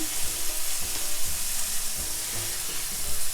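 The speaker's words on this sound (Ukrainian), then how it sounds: "І цибуля з морквинкою має смажитися приблизно хвилинку-півтори." Onion and carrot fry in a little oil in a pan, a loud steady sizzle and crackle close up, broken by soft scraping and thumps as the vegetables are stirred.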